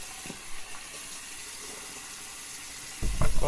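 Tap water runs in a steady stream at a sink while someone wets their face before shaving, with a burst of splashing near the end.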